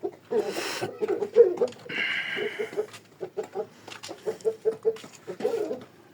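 Chickens cluck and a rooster calls in a series of short, close bursts, with some faint chatter and yard noise between them.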